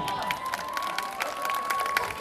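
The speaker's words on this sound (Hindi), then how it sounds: "एक बार जोरदार तालियां।" A crowd at a Chhinj wrestling fair in Pukhri gives a burst of dense, steady clapping, heard outdoors and fairly loud, with a faint steady tone running underneath.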